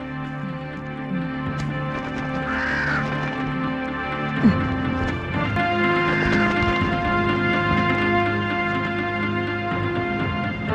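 Two harsh crow caws ring out in a scene from an Indonesian fantasy drama, one near the third second and one near the sixth, over steady sustained background music.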